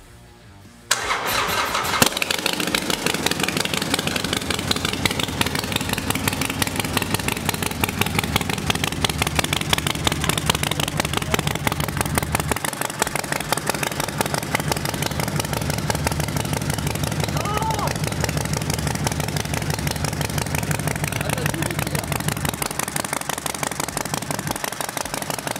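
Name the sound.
Harley Davidson Sportster 1200 Forty-Eight engine starting and idling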